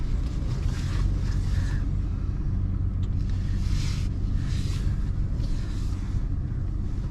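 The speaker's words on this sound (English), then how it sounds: "I'm trying to back my truck into my parking spot" A pickup truck engine idles and rumbles low and steady while backing slowly into a parking spot, with faint swells of road or wind noise.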